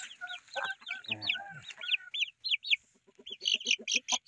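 Chicks cheep and peep from inside a screened chicken coop, a busy flock of high, rising calls that come in quick clustered bursts, close and fairly loud, with a short lull before they start up again.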